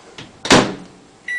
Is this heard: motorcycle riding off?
no